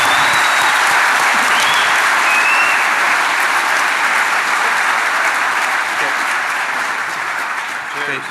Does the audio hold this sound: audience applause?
yes